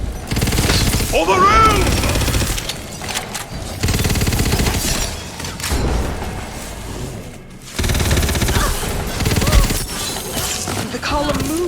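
Gunfire in the fantasy shooter Tiny Tina's Wonderlands, aimed at a stone column to rotate it. Repeated loud shots and impacts come in clusters over game sounds, and a character voice calls out once.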